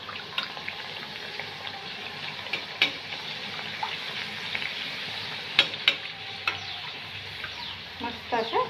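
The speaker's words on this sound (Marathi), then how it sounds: "आता आपण करंजी तळून घेऊया." Karanji pastries deep-frying in hot oil, giving a steady close sizzle with scattered pops and crackles throughout, without any talk.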